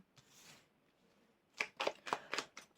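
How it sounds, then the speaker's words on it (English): A tarot card deck is shuffled close up, a quiet rustle first and then a quick run of five or six crisp riffling snaps, with no voices. "I only shuffle this deck upright, but the cards like to flip around"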